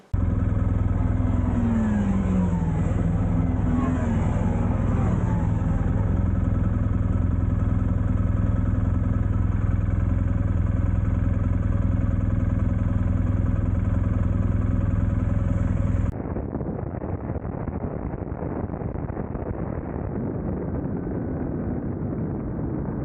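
An adventure motorcycle ridden on the road, its engine humming loud and steady with wind rushing past the microphone, the tone shifting partway through as riding continues with no one speaking.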